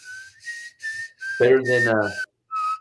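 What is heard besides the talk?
person whistling Godfather music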